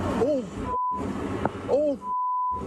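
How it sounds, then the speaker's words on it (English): Cockpit warning alarm aboard Delta Flight 4819 during a steep descent before a crash at Toronto Pearson Airport, heard as a steady electronic tone that sounds in two separate bursts over a background of voices and noise. "setting off an internal warning alarm"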